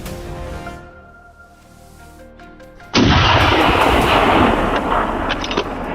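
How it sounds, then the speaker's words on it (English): A gunshot fired at a wild boar crossing a road breaks out loud and sudden midway, followed by sustained rumbling noise, after a stretch of quieter hum. "Another precise shot brought the prey down on the spot."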